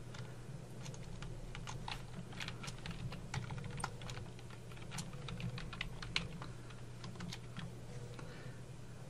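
Quiet, close, scattered clicks of a computer mouse come from a PC while a column chart is edited in Microsoft Word, over a steady low hum.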